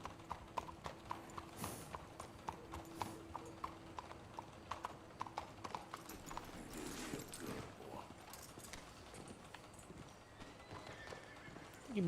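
Horse hooves clip-clop in Red Dead Redemption 2 as a rider slows near a park and hitching post, steady evenly spaced hoofbeats with a short whinny, moderately close under faint ambient game sound.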